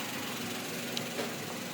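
Steady, fairly quiet idle of a Daihatsu Ayla 1.2 R manual engine just after starting, a continuous even hum with slight flutter and no voices.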